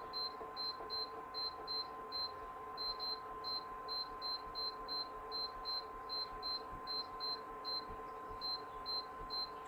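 A kitchen timer beeps in quick repeated bursts of high, thin tones in a steady rhythm, set while cooking a vegan tofurky sausage jambalaya with brown rice, faint against a low steady hum.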